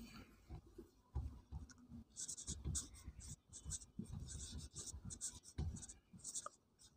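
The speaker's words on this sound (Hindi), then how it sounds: "लिख लेता हूँ वापिस से।" A pen scratches across a writing surface by hand in short, quick bursts of strokes with brief pauses, close and fairly quiet.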